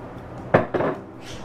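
Spoon or whisk clanks against a pot while cheddar cheese is stirred into queso dip, two sharp scraping knocks followed by quieter stirring, close and alone.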